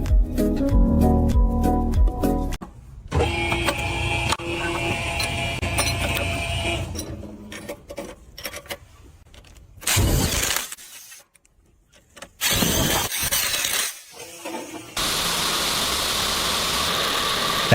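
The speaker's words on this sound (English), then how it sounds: "an automated lock-forming machine precisely shaping galvanized steel sheet metal into ventilation ducts" Automated lock-forming machine shaping galvanized steel sheet into ventilation ducts in a factory, loud mechanical clanking and grinding in separate bursts with abrupt gaps, ending in a steady metallic roar.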